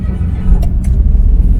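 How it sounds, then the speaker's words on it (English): A 2022 Mitsubishi Mirage G4 engine starts and settles into a steady low rumble, with a couple of brief higher metallic ticks in the middle that sound like metal rubbing. "when you start the vehicle, because you will hear some like mechanical noise, like a noise that you will hear when metals are rubbing."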